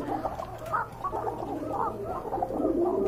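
A pigeon coos softly several times in a thin, high-pitched voice, the low calls recurring close by amid faint background hum.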